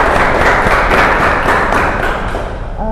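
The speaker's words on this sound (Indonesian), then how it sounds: "Tepuk tangan buat Kak Dwi." An audience claps for a guest, the MMA athlete Kak Dwi, with a brisk, loud patter of many hands that runs steadily and eases off near the end.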